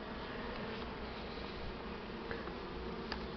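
Buckfast honey bees hum at an opened hive during an early spring inspection, a continuous close buzzing drone that stays even and steady, with no speech over it.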